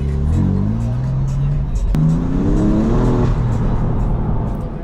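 A very loud car engine revs hard nearby in rising and falling roaring sweeps, with a sharp crack partway through and a sustained, throaty drone afterward.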